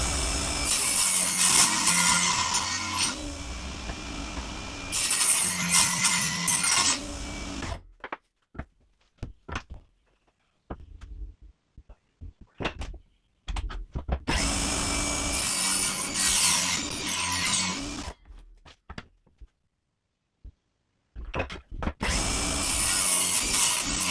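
A hand saw cutting angled cap pieces from a solid oak board, with long stretches of steady rasping strokes broken by quiet gaps and scattered knocks, loud and close.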